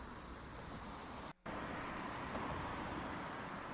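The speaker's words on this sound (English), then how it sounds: "I kind of hear cars in the background too." Low, steady road traffic rumbles continuously in the background, a broad wash of passing cars with one brief dropout, faint and distant with no talking.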